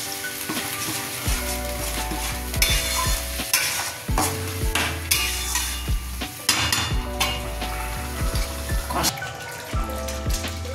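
Spice paste with a little salt fries in oil for a fish curry, a dense crackling sizzle broken by repeated scraping stirs of a spoon against the pan, close and continuous with no talk.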